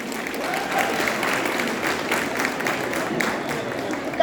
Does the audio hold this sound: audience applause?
yes